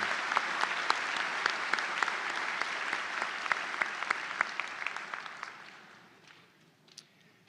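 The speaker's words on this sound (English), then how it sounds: "let's give all the marshals a round of applause for their help and participation today" Audience applause at the Eastern Illinois University spring 2022 commencement ceremony, honoring the student marshals: steady, dense clapping from a large crowd that holds for about six seconds, then fades to a few scattered claps.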